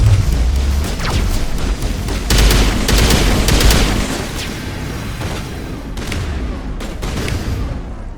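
Gunfire from a firefight in the video game Mass Effect, dense bursts of shots and booming impacts crackling continuously and loud, with no talking over it.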